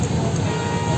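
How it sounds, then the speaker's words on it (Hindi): Road traffic packed in a jam builds a dense, steady roar of vehicles close by, a continuous wash of engine and road noise with no break through the brief moment. "एक गाड़ी के चक्कर में इतना जाम लग रहा है यहाँ पे।"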